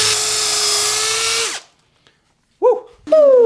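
A power drill bores into a guitar body for a scratch-built pink, fabric-top, semi-hollow Jazzmaster, whining loud and steady for about a second and a half before spinning down, then silence followed by two brief bursts.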